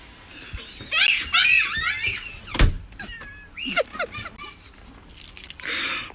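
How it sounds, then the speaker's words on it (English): A door is shut with one firm, close thud near the middle, surrounded by shrieks, excited exclamations and laughter. "She closed the door on me."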